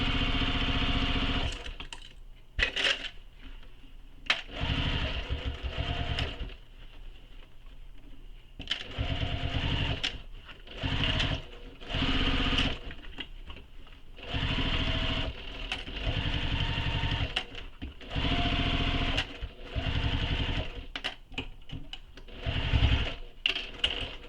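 A sewing machine stitches a tote bag in repeated bursts of fast, steady running, close and loud, separated by short pauses where the needle stops in the fabric.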